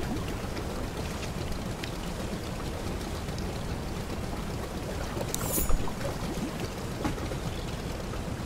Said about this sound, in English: Need to see our engine squealing in the background.